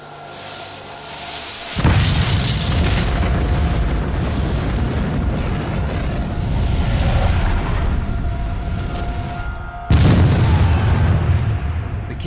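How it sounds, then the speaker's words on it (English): Civil War canister shot cannon fire, a tin casing packed with iron balls bursting, heard as a loud booming blast that rolls into a sustained rumbling roar, with a second heavy boom near the end. "The casing explodes"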